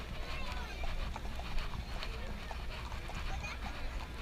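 Horses clip-clop along a street in a rodeo parade, steady hoof beats at moderate distance mixed with crowd noise and people talking.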